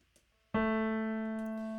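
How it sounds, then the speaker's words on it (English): After a moment of quiet, one piano note, the A below middle C at 220 hertz, is struck and rings clearly, its tone slowly fading as it sustains. "a single note played on a piano"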